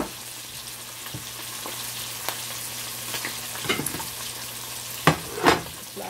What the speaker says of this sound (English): I think I'm just gonna fry the other two all